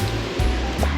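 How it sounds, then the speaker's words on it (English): A small waterfall feeding a little river in a park in the Black Forest region, a continuous rushing, splashing wash of water, close and fairly loud, with a few low thumps. "Little river and waterfall coming down."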